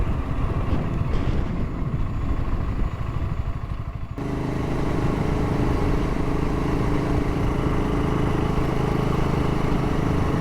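A BSA Gold Star 650 big single-cylinder motorcycle engine runs close by, a steady thumping beat that shifts to a lower, even idle partway through, with light wind buffeting and no voices.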